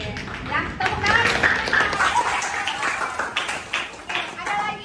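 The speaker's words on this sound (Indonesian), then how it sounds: "Ya, tepuk tangan." Classmates in a classroom clap for a student who has just sung a Sundanese song, a short burst of moderately loud, uneven clapping with voices mixed in.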